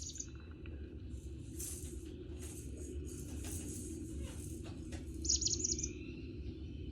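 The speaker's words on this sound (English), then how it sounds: "It's a chickadee." A black-capped chickadee calls outdoors in winter, giving a few faint, high, brief chirps over a steady low rumble of background noise.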